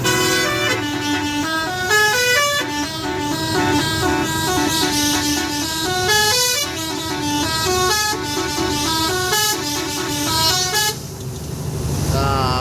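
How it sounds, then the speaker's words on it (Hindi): Loud car horns honk repeatedly in sustained, overlapping blasts, part of a busy stretch of traffic, with a brief rumble of engines near the end. "मैं आपको हॉर्न सुनाता हूँ"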